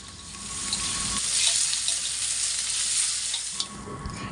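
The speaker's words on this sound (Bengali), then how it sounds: "সেই তেল দিয়ে এখন মাংসটা রান্না করব" Meat sizzles and fries in hot oil already used for browning onions, a close, steady hiss with some stirring and clinks and no talk.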